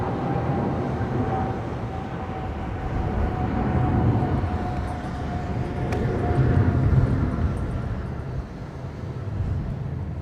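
Airliner engines spooling up on runway 09 right at London Heathrow, a distant steady roar with a faint rising whine, heard alone over the airport rumble.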